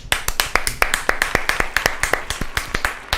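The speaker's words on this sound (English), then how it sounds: "let's give a warm what is a hand of applause to our guest" A few people clap for a podcast guest in the studio, sharp, close, evenly spaced hand claps in a quick steady rhythm with no talk over them.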